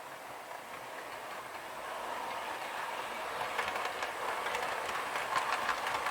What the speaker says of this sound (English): Let's fire up a train.